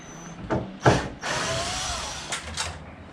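A power drill drives screws out of a military camper trailer being converted into a cubby house, with a couple of short bursts followed by a longer sustained whirring run and brief clicks at the end.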